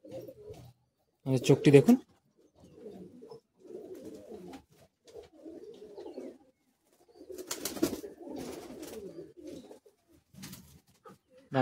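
Madrasi high-flying pigeons coo in bursts inside a loft, the soft calls coming and going between pauses, while someone talks over them.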